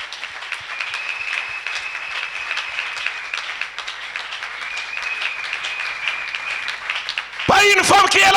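A church congregation claps and cheers in a sustained, dense burst of applause that fills the room, with voices mixed in and a louder outburst near the end.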